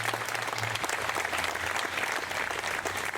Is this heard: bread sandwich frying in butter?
no